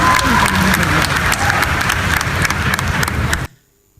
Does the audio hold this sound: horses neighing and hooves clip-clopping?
no